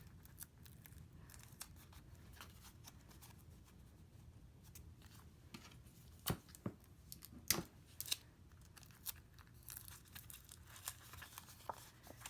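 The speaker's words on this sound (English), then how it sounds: "I'm just going to tape this around the back with my crummy Amish tape" Adhesive tape of poor quality pulled from a roll and wrapped around the back of a handmade embossed card, giving quiet crinkly tearing and scraping with a few sharper snaps near the middle, close up, with no talking.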